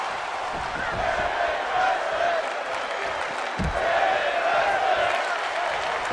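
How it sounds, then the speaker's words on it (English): Arena crowd noise from a WWE 2K25 wrestling match plays as a steady, loud wash of cheering throughout, with faint voice-like traces mixed in. "The crowd is loving this match"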